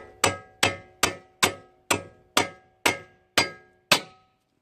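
A hammer strikes metal during a CV axle replacement on a Subaru: eight sharp, ringing clangs at a steady, even pace, each decaying quickly, close and loud with no talking.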